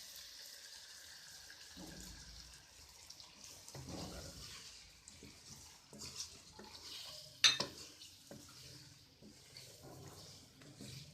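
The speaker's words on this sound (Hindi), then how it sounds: "साथ ही थोड़ा सा पानी डालेंगे और अच्छी तरह से फ्राई कर लेंगे इसे।" A spoon stirs and scrapes chicken frying with spices and a little added water in a home kitchen pan, with irregular clinks and scrapes against the metal and a sharp clatter near the middle over a soft sizzle.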